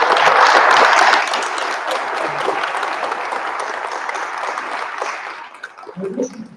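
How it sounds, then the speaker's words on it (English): A panel audience at a Navy museum event breaks into a round of applause, loud dense clapping at first that thins and fades over several seconds before a voice speaks. "a round of applause"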